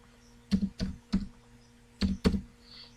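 Keys tapped on a computer keyboard while typing into a Microsoft Word document: five separate, fairly faint clusters of clicks with pauses between them, with no voices.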